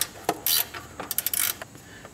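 Wrench ratchet clicks and metallic scrapes as the slack bolt on a timing belt tensioner of a Kia Sportage 2.0L engine is loosened, a close series of short bursts and clicks with no talk.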